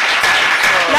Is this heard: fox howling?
no